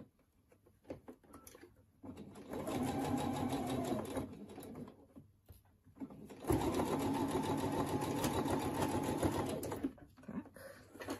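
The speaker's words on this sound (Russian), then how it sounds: "Мы прострачиваем здесь горловинку." A sewing machine stitching the neckline of a fabric doll runs in two loud, steady whirring bursts of a few seconds each, separated by quiet pauses with faint handling noise.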